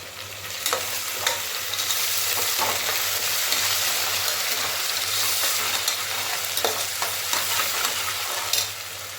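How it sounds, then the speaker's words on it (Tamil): Ginger garlic paste and curry leaves sauté in a pan, giving a steady, dense sizzle throughout with occasional stirring scrapes and clicks, fairly close and loud, with no talking. "நல்லா இஞ்சி பூண்டு பேஸ்ட்டு நல்லா வதங்கிடுச்சு"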